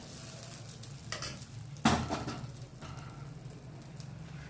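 Thin pesarattu batter spread on a hot pan gives a soft, continuous sizzle, with one brief louder hiss near the middle before it settles back to a low steady crackle.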